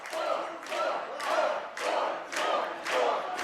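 A video game match crowd roars and cheers in repeated swelling waves, loud and sustained, pulsing about every second with no talk over it.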